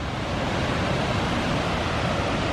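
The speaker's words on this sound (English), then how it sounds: "Look at that, that spillway right there." Water rushes over a river spillway in a loud, continuous broadband roar, steady and close with no talking over it.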